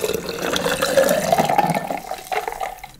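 Tea pouring into a carafe of ice for a Caribbean iced tea cocktail, a steady close liquid stream with a rising gurgle as the vessel fills, then ice clinks briefly as the flow tapers off.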